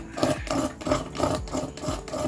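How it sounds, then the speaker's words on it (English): A scraper rasps rhythmically across a magnesium fire-starter block, about five close, gritty strokes in quick succession shaving off magnesium. "You just want to scrape enough magnesium to get started"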